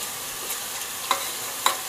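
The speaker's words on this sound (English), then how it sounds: "And you want to stir that in." Whole cloves and black peppercorns being stirred into onions frying in a pan for a lamb and spinach curry; a steady sizzle runs throughout, with two sharp spoon clinks against the pan.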